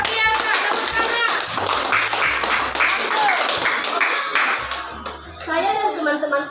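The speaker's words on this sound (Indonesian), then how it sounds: "Tepuk tangan." Students clapping in a classroom, a loose round of close applause with children's voices heard over and around it.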